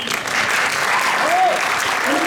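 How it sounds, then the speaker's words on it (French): An audience applauds at an improv theatre festival semi-final, a continuous wash of clapping with a voice briefly audible through it. "On vous applaudit bien fort et on encourage un premier collectif."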